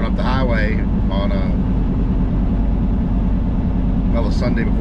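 A car cruising up an empty highway on a Sunday before Labor Day, steady low engine and road rumble throughout, with someone talking over it.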